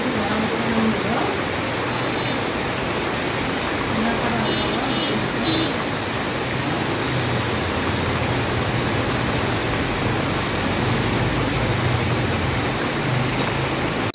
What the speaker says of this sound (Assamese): ধুনীয়াকৈ বৰষুণ দিছে